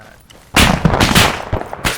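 An armored vehicle's autocannon in Arma 3 shells a building, a quiet pause giving way to a loud burst of rapid heavy shots that echo and fade in short repeated bangs.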